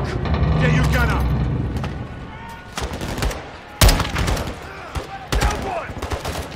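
Gunfire in the video game Modern Warfare II, sharp bursts of automatic fire and single cracks with a heavy boom, scattered and irregular, under shouted voices and engine rumble.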